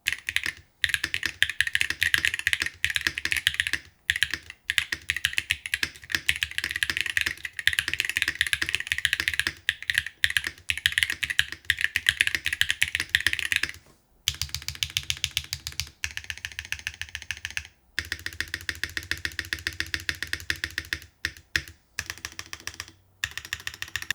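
Continuous fast typing on a mechanical keyboard with Hall effect switches, crisp clacky keystrokes in dense bursts with a few brief pauses, close and clear.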